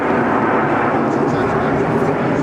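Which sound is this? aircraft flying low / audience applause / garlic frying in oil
aircraft flying low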